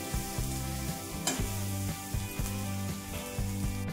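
Ginger and garlic sautéing in a pan for aloo palak, with a steady close sizzle throughout and a utensil tapping and scraping in a regular rhythm. Faint background tones sit under the frying.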